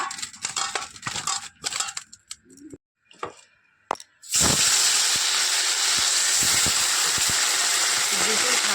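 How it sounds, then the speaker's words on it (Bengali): Fish hits hot oil in a wok and sets off a loud, steady sizzle that fills the second half, after some earlier kitchen clatter and a brief spoken voice. "চলো মাছটা ভাজা বসিয়ে দিই। কড়াইতে তেল দিয়ে দিয়েছি।"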